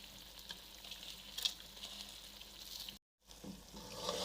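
Makhandi halwa roasting in a pan with pistachios, almonds, magaz, raisins and dried coconut, a soft continuous sizzle with faint stirring scrapes, broken by a brief dropout of silence.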